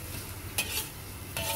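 Minced fish and bean sprouts stir-fry quietly in a pan, a faint low sizzle broken by two brief bright scraping stirs, no voices.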